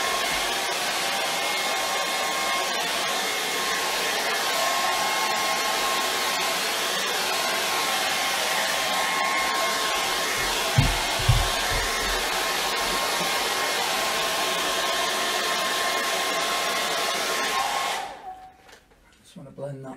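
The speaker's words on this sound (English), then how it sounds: "Hair dryer." A hair dryer blows with a steady, loud whooshing whine for a long stretch, a couple of low thumps midway, then cuts off near the end.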